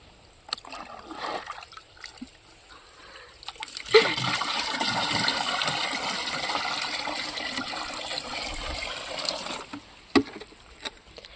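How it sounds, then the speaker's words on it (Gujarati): Irrigation water runs through a ditch in a village vegetable field, a steady, close rushing and splashing flow that swells in and holds for about six seconds before dropping away. "ઢોરિયાનું પાણી કોઈને પીવું હોય છે."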